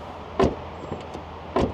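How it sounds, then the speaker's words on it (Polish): A 2012 Renault Laguna car door clicks open and then thuds shut softly, two short close sounds with a softer click in between against quiet background. "Dźwięk otwierania i zamykania drzwi"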